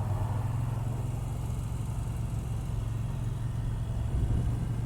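A 2020 Moto Guzzi V9 Bobber Sport motorcycle engine hums steadily at a constant pitch while cornering, a low mid-range drone with road and wind noise, no voices.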